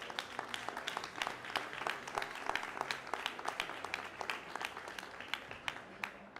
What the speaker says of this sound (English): give everybody in this room a big round of applause